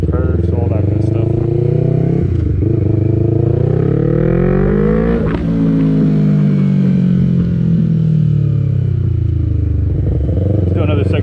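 A 2020 Yamaha MT-03 motorcycle held in second gear during a wheelie gives a loud, continuous engine drone that rises and dips in pitch, with a rider talking over it.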